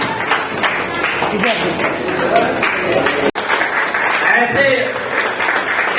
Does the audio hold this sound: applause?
yes